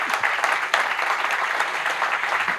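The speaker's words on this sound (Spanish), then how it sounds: "Un aplauso para Juan" Audience applause for Juan at a knowledge and innovation event, a dense, fairly loud, steady wash of clapping hands filling the whole stretch.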